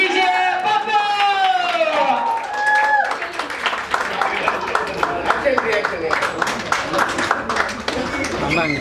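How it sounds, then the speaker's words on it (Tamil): At an awards ceremony, audience clapping for a rising star award winner, scattered applause under a loud announcer and music. "Put your hands together for it's none other than Vijay Babu."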